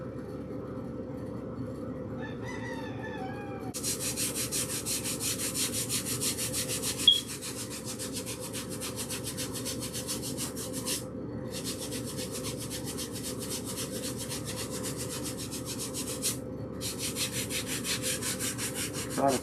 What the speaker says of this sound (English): the next thing that I'm going to do is do some sanding